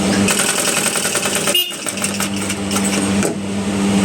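A sewing machine stitches a size-40 blouse sleeve, a steady motorized whir that runs loud and close, breaks off briefly partway, then resumes.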